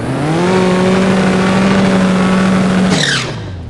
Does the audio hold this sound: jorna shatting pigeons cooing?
no